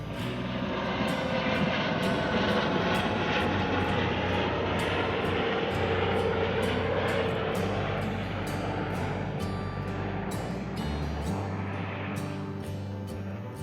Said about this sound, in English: So there you go, helicopter flew by. That was pretty low